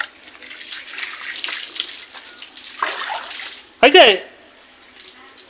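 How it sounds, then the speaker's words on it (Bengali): Water sloshes and splashes as it is poured over a person's head during a bath, a short burst near the end following quieter running water, with talk in the background. "আমি মাথা জল ঢেলে দিচ্ছি"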